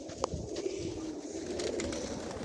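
Pigeons coo inside a gravel-floored pigeon loft, low soft burbling calls repeating close by over a steady murmur of the flock.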